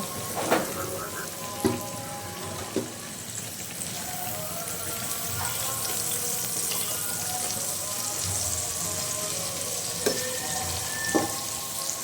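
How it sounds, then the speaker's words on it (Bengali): Eggplant and potato pieces frying in oil in a pan, a continuous sizzle with occasional sharp pops and clicks of utensils, close and fairly quiet, with no talking. "আমার বেগুন ভাজা হয়ে গেলে আমি বেগুনটা তুলে রাখবো এবং কিছু আলু বাকি আছে সেটাও আমি ভেজে নেব"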